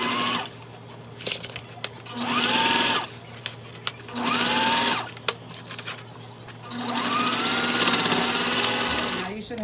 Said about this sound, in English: We're gonna go ahead and top stitch this all the way across just like we did this side.